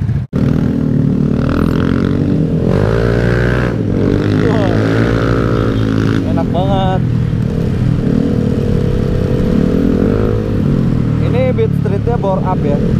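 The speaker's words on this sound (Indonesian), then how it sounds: "Sekarang kalau ini bore up, beat street bore up." A bored-up Honda Beat Street scooter engine runs loud and close, with buzzing revs rising and falling as it is ridden on a wet, flooded road, and people talk over it throughout.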